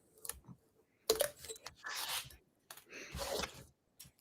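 Tape peels off a glass can in several short ripping and crinkling bursts, close and fairly quiet, separated by brief pauses.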